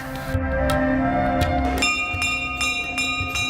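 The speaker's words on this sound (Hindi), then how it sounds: "घंटियां बजाकर यहाँ हर कोई मां को अपनी कामना बताता है, साथ ही अपनी हाजिरी लगाता है।" Temple bells ring at the Maa Kushmanda temple, a series of bright metallic strikes that overlap and shimmer, growing denser as several bells sound together.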